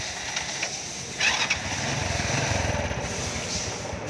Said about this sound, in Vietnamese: Mình vừa quay mình vừa nổ máy cho anh em nghe luôn